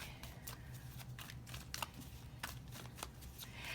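Tarot cards handled and shuffled, giving a run of soft, quick riffles and flicks at close range, quiet and irregular in rhythm, with no voice over them.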